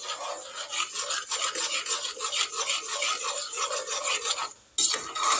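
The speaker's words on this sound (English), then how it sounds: "So we're going to stir this and let it come to a boil" A spoon scrapes and rasps around a pan while stirring brown sugar and evaporated milk for peanut butter fudge, a continuous close gritty rubbing that stops briefly with a short gap near the end.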